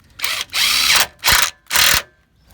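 A bolt is driven into a fuel tank strap hole on a 2005 Lexus GX 470 with a power tool, four close, loud whirring bursts separated by short pauses.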